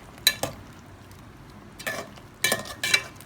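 A spoon stirs brinjal and drumstick masala gravy in a pan, giving several short scraping clinks in irregular bursts, close and moderately loud, with no talking.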